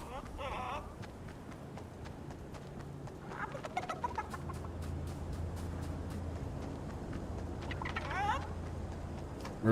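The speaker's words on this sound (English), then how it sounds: "You know what? Let's grab this chicken." Clucking chicken in the Fortnite video game, a few short clucks at the start and again near the end, heard over a steady wash of game background noise and music.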